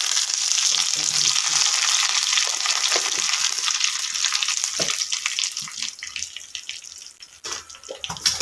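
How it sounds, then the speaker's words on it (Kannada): Mustard seeds splutter and crackle in hot oil for a Konkani-style avalakki (flattened rice) dish, a dense continuous sizzle with sharp pops, loud and close, thinning slightly toward the end with no talking. "ಸಾಸಿವೆ ಸಿಡಿಲಿಕ್ಕೆ ಸ್ಟಾರ್ಟ್ ಆಯ್ತು"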